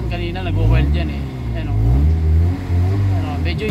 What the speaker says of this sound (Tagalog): pansin nyo yung yung andar ng engine, medyo nag-smooth siya ng 2000 kanina